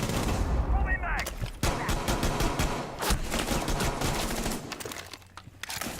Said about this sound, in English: gonna fire a couple shots his way.